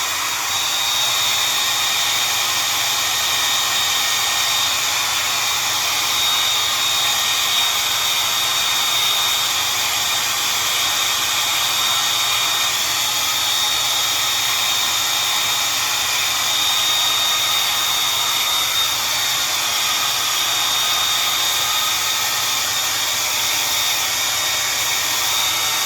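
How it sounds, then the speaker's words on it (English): A small travel-size hair dryer blows steadily and loudly for the whole stretch, an unbroken high-pitched whoosh with no talking. "I have my trusty little travel size blow dryer."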